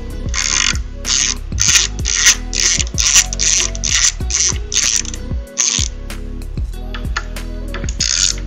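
A screwdriver backing screws out of an EVGA 3090 XC3 graphics card backplate makes rapid ratcheting clicks, a steady close rhythm of short bright bursts with a brief pause midway.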